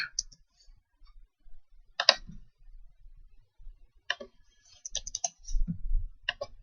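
Computer keyboard keys typed in short bursts while entering network call letters, with scattered clicks separated by quiet pauses, fairly close and moderately loud, no talking.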